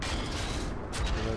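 A tank cannon fires in World of Tanks on Xbox One, a loud boom near the middle of a continuous battle din. A short burst follows right behind it.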